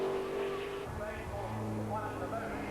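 A TVR Tuscan race car in a 1994 Tuscan Challenge race, recovering from a gearbox problem, accelerates hard out of a hairpin with a loud, continuous engine roar that shifts in pitch under race commentary.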